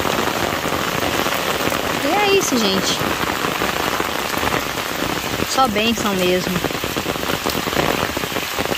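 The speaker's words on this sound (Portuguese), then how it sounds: "Ó, chuva grossa." Heavy rain pours down steadily and loudly on a rural farm, a dense, unbroken downpour while a person talks briefly over it.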